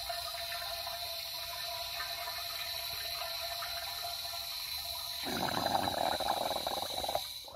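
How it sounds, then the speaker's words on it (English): A steady hiss of water inside a propane tank fuel cell, then a burst of gurgling bubbles rushing through for a couple of seconds before settling. "Every once in a while, I let the bubbles out like that and force more water."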